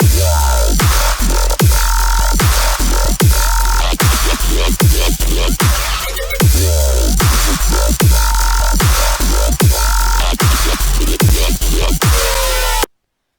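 Loud dubstep bass growls pulse in a steady groove over punchy kicks and snares, the distorted wobble filling the mix until it cuts off abruptly.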